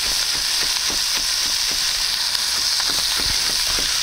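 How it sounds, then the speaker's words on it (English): Celery stalks sizzle in a hot pot as the base of a Cajun trinity, a steady, close, loud frying hiss with faint crackles and light stirring taps throughout, no voices. "Now to that, I'm going to add 2 celery stalks."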